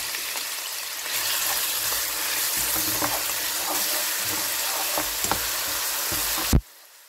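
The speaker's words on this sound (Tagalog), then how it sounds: "mainit na ang ating mantika at igisa na natin ating bawang sibuyas" Garlic and onion sautéing in hot oil in a pan, giving a loud, continuous close sizzle with a few stirring scrapes, which cuts off abruptly near the end.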